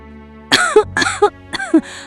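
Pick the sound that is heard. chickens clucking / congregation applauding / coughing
coughing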